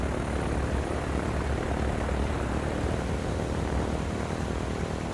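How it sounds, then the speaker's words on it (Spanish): WWII propeller aircraft, Messerschmitt fighters and Stuka dive bombers, drone overhead in a steady, broad engine roar that holds at an even level throughout. "500 cazas Messerschmitt y un gran número de bombarderos en picado, los Stukas."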